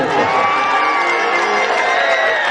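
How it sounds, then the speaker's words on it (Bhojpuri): A large festival crowd at an open-air Bhojpuri music event cheers, shouts and claps together in a loud, dense, unbroken roar. "हम चाहेंगे कि एक जोरदार ताली बने"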